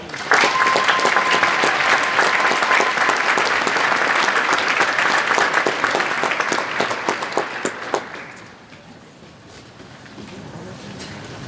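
A large audience applauds a Teacher of the Year at a state award ceremony. Sustained, dense clapping holds steady, then tapers off into quieter room noise near the end.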